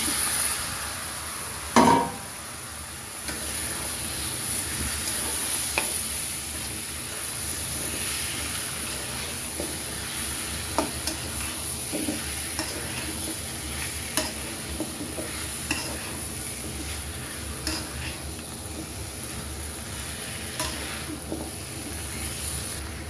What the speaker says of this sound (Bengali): দেখো আমার এই পটেটোগুলো আমি আমার গ্রেভির সাথে মিক্স করতেছি